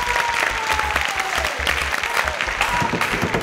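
Steady applause from a studio audience at a team quiz show, dense clapping filling the whole stretch without a break.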